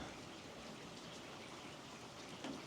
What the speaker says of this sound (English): I think the rain's really beautiful.